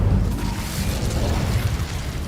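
Incendio fire spell cast in Hogwarts Legacy, a loud rumbling burst of flame that roars from the start and stays dense and booming throughout.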